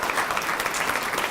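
Steady audience applause fills the room at a motivational presentation, dense and even throughout, with no voices heard over it.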